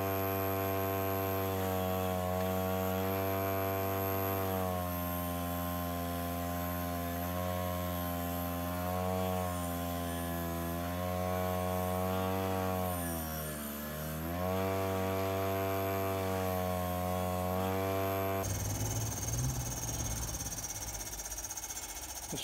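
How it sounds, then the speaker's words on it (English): A bench grinder with a wheel attachment cleans up a metal part before cold bluing, giving a steady droning motor hum whose pitch sags briefly under load, then cuts off abruptly near the end. "we'll give this a quick hit on the actual bench grinder with the wheel attachment and just clean the rest of this stuff up"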